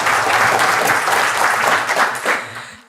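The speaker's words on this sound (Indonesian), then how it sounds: "Tepuk tangan dulu buat Anda semua ya." An audience at an indoor health talk breaks into steady, dense applause that fills the room, then thins out slightly toward the end.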